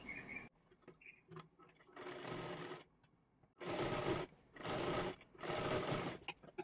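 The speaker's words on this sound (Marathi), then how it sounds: "व्यवस्थित आपल्याला पूर्ण खालच्या बाजूला सर्वात आधी शिलाई मारून" A domestic sewing machine stitches the lining along the bottom edge of a princess-cut blouse, running in several loud, steady whirring bursts separated by pauses, close and clear.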